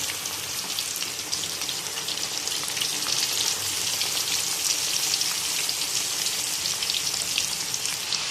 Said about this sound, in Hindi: ऑयल हमारा अच्छा खासा गर्म था तो आप देख सकते हैं कि दाल हमारी कैसे फ्राई हो रही है